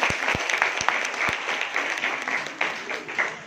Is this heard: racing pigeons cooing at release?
no